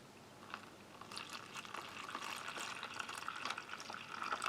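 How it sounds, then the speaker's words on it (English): Cold water pours into a pouch of dark chocolate powder from a Canadian Army ration, a soft trickling and splashing that grows slightly fuller as it fills, close and quiet. "we'll try and give that some cold water up to the required line."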